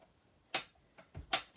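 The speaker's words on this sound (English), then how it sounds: "Now I'm going to stamp this one." Rubber stamp pressed onto card during papercraft, giving a few sharp, dry taps and knocks in quick succession, close and distinct with no talk.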